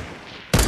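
A single loud gunshot from a Fortnite weapon bursts in after a stretch of quiet, sustained, broadband blast with no speech.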